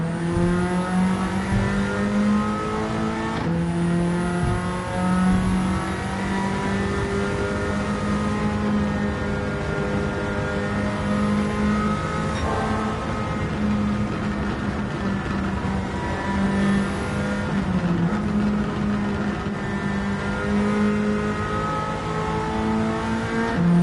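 A race-built Toyota Celica GT-Four T205, all-wheel drive, roars in Gran Turismo 7 with a steady, loud engine drone that climbs and drops through gear changes for the whole stretch, no voices.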